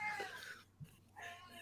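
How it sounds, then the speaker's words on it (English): A house cat meows loudly indoors in a couple of short, close calls separated by a brief pause. "my cat's being loud."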